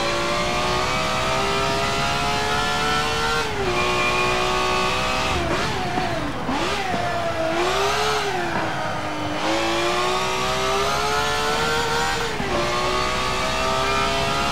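High-revving GT race car engine in Forza Motorsport 7, a loud sustained scream that climbs and dips through several gear changes, with short lifts, and no talk over it.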